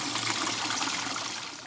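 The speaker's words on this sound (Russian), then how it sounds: "и оттуда бесконечная вода течет" Water pours continuously from a tank beside a river, a steady rushing splash at close range that holds level and fades slightly at the end, with no voices.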